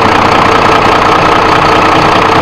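A boat's engine runs steadily after being started, a loud continuous mid-pitched drone with a slight knocking rhythm and no break throughout.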